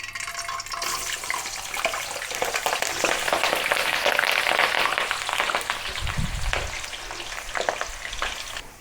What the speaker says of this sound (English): The next step is to fry the potatoes.